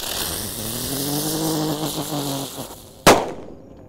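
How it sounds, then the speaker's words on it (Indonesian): A Pratetor firecracker is set off on a Ramadan night: a buzzing, whistling fizz builds for about three seconds, then a single sharp, loud bang is followed by a short fading tail. "di sini ada mercon Pratetor"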